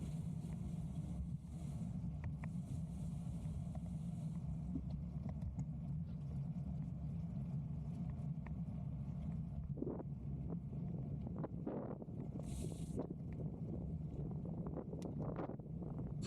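Steady low rumbling wind buffeting the microphone during a bike ride on the Meydan cycle track, lasting the whole stretch, with a few faint brief clicks and bumps near the end.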